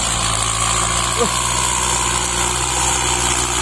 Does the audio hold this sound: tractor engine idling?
yes